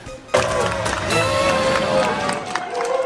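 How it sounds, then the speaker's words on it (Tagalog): Applause and cheering greet 47 repatriated Filipinos arriving at NAIA Terminal 1 at night, a dense crowd noise starting abruptly and holding steady, with voices mixed in. "Palakpak ang sumalubong sa 47 Pilipinong dumating sa NAIA Terminal 1 kagabi."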